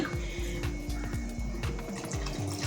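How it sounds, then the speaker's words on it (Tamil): Water pours steadily into a cooking pot for chicken biryani, a continuous gurgling splash running throughout with no talking. "நான் 4 டம்ளர் தண்ணி சேர்த்துக்கிட்டேன்"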